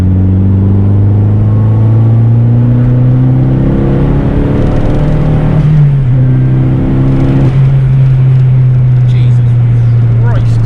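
A Vauxhall Corsa B with a turbocharged C20LET 2.0 16V engine accelerates hard, its loud droning engine note climbing steadily in pitch from inside the cabin, with a brief shift dip midway before pulling again.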